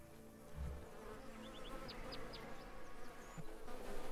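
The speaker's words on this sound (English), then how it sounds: "Now we have bees." Bees buzz around a beehive in the Farmer's Dynasty farming game, a steady insect hum with a few brief higher buzzing passes over a low background drone.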